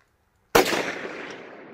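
A single sharp gunshot while plinking at targets outdoors, with an abrupt loud crack followed by a ringing, decaying tail.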